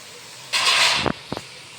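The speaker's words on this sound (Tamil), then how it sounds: "இப்போ வந்து இது எல்லாத்தையும் நல்லா வதக்குறோம்." Chopped onion and one large tomato hitting a hot pan while cooking pasta, a loud sizzling hiss that swells for about half a second and then settles, followed by a few soft stirring knocks.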